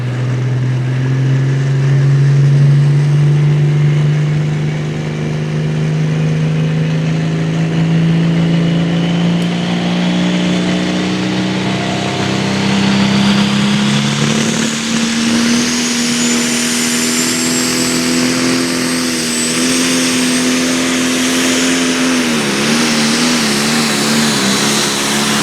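A 4,000-horsepower pulling tractor called More Agitation roars down a tractor-pull track at about 28 mph, its engine a loud sustained drone that slowly climbs in pitch and holds steady at full throttle, with no voices over it.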